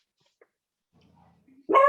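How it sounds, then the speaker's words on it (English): A dog barking once, loud and close, at the end of a near-silent stretch with faint background rustling before it. "I hear a dog."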